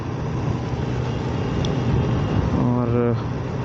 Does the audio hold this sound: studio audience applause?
no